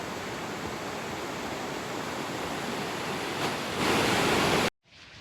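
Waterfall cascading at a retreat in Rhinebeck, a steady loud broadband roar of falling water heard close by, swelling near the end before cutting off abruptly.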